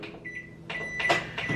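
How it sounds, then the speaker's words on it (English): A microwave oven heating milk and sugar hums steadily. Brief beeps and clicks of the door or controls cut in over the hum. "I'm just gonna pop it in the microwave for about a minute or so"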